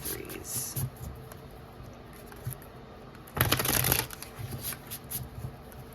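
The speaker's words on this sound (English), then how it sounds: "This deck always hurts my fingers when I shuffle." A stiff deck of tarot cards is shuffled by hand up close, with soft riffling at first and then a loud, dense burst of card flutter lasting about half a second.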